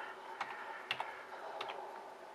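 Several light keystrokes on a computer keyboard as a command is typed into Star Trek Online, scattered soft clicks spread over a couple of seconds against a quiet background.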